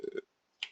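Keys clatter on a computer keyboard during a high school Arduino coding lesson, a few quick faint clicks, then a pause, then two more taps.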